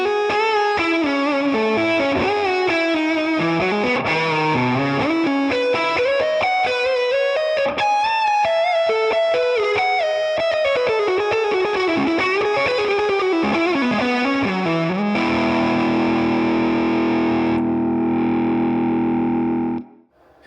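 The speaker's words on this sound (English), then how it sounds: "Let's hear that neck pickup." A PRS Private Stock electric guitar on its neck pickup, a 5815 LT, plays a fast, busy melodic run through distorted, effects-laden tone, ending on a sustained ringing chord that is cut off at the end; loud, with no talk.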